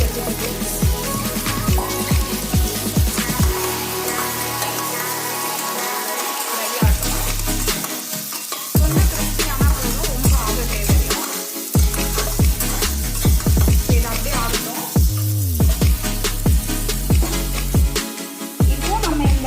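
Vegetables sizzle loudly in a hot pan while a utensil stirs them, scraping and clattering in an irregular rhythm.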